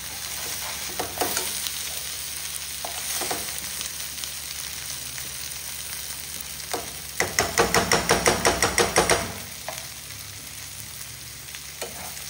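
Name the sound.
fish frying and being stirred in a pan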